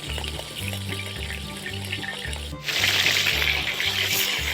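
Hot food sizzles and crackles steadily in a saj pan over an open fire, growing louder and more intense partway through, with a low rhythmic hum underneath.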